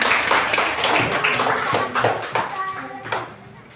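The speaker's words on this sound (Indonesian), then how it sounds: "Iya, beri tepuk tangan." A group of children in a classroom claps hands together in a quick, scattered burst, with children's voices chattering over the applause.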